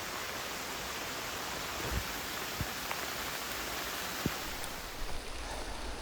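Steady hiss of rain falling all around, with a few soft drip taps standing out; no voices.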